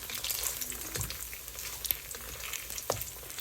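Hash brown browning in bacon fat in a home breakfast pan, with a steady close crackling sizzle and a few brief sharp pops and scrapes, fairly quiet throughout.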